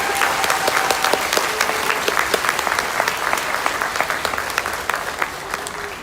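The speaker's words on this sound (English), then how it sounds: "So would you give this university a nice round of applause?" A choir concert audience applauds a university with a dense, steady round of clapping from a large crowd that holds through to the end.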